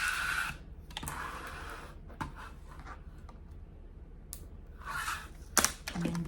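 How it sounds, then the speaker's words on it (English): Squeegee pressed over a vinyl decal on acrylic to push out bubbles, giving short scraping and rubbing strokes in separate bursts with quiet gaps, close and fairly soft. "And we'll use a squeegee to press out the bubbles."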